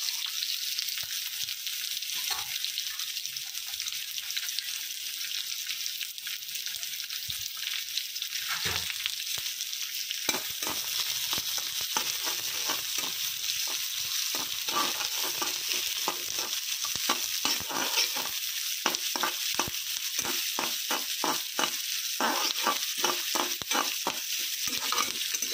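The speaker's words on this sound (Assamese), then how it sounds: "এইখিনি মই তেলত দি দিম" Paneer pieces fry and sizzle in hot oil at close range, a steady hiss laced with frequent scraping stir strokes that grow busier partway through.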